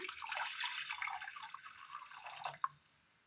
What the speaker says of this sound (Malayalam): അടുപ്പത്തൊരു ചട്ടി വെച്ച് കൊടുത്ത് അല്പം വെള്ളം ഒഴിച്ചു കൊടുക്കാം